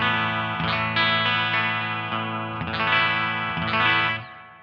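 A Burny RLG 60P Goldtop singlecut guitar, played clean through a tube amp simulator, rings out sustained chords that are restruck a few times and fade at the end.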